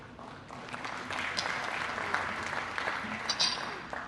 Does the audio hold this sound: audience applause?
yes